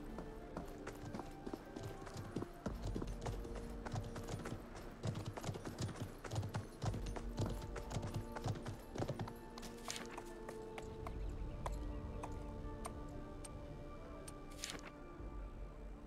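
Horse hooves clip-clop steadily in Conqueror's Blade, a dense run of sharp hoof strikes over a busy game backdrop, with a faint voice now and then.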